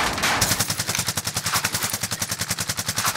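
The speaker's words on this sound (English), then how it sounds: "I'm taking fire!" Sustained automatic gunfire in a VR shooter game, a rapid, steady stream of loud shots at an even rhythm that keeps going without a break.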